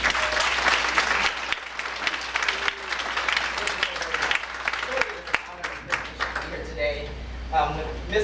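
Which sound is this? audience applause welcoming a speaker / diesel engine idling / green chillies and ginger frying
audience applause welcoming a speaker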